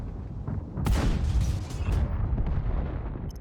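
Tank gun firing in the World of Tanks video game, a single heavy boom with a rumbling tail that fades over a few seconds, alone without talk.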